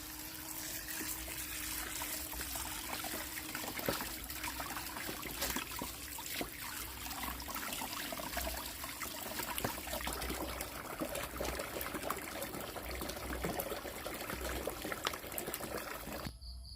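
Straw mushrooms being washed under running water, a steady trickle and splash of tap water continuing close by without a break.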